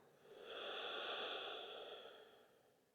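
A single slow, soft exhale during restorative yoga rises and fades over a few seconds, breathy and quiet with no talking.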